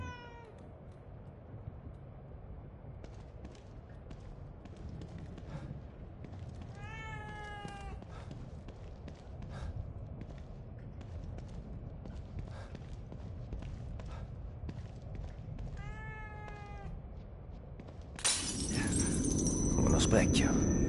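A cat meows repeatedly in the video game The Evil Within 2, several short rising-falling cries spread over a low ambient background, ending in a sudden loud crash or shatter.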